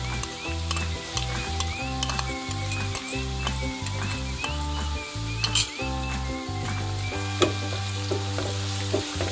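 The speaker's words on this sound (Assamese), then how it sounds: "মোৰ তেলখিনি গৰম হৈ গৈছে আৰু এয়া মই প্ৰথমতে আদাখিনি দি দিছোঁ। আৰু এয়া নহৰুখিনি দিছোঁ।" Ginger and then garlic frying in hot oil for a banana stem pickle, a steady close sizzle broken by repeated scraping stirs and light clinks of a spatula against the pan, with no talking.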